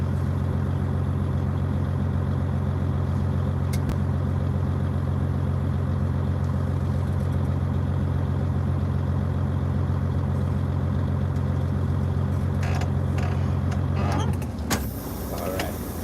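A truck engine idles steadily and close up, a low constant rumble throughout, before a clunk and shift in sound near the end as it is put into gear.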